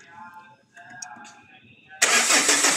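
Speech runs over a quiet stretch, then a Renault Megane 2 engine fires abruptly near the end and settles into a loud, close, steady run.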